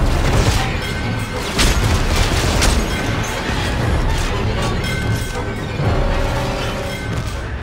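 Explosions and heavy combat blasts in Dead Space 3 co-op, a grenade among dense loud booms and crashes layered over constant battle noise, with stronger bursts near the start, around the three-second mark and again late.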